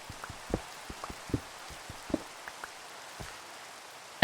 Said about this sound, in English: And of course it starts raining again.